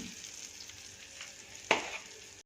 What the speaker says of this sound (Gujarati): આપણે ગ્રેવીને 2 મિનિટ માટે થોડી આ રીતે ચલાવી લઈશું